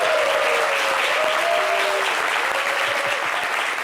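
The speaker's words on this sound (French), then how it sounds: "Applaudissez pour M. Chico." A live audience at a French-language show applauds for Chico Lacoste with loud, dense, sustained clapping that fills the whole span. A faint whistle or cheer glides through the middle.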